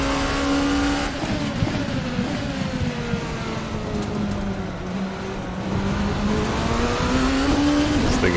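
A Rebellion R13 LMP racing car engine in Assetto Corsa screams at high revs, its pitch dipping and climbing through gear changes as the car accelerates, loud and continuous.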